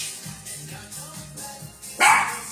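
A small dog named Peanut yips and barks indoors in a few short, moderately close bursts, ending in a louder sharp bark.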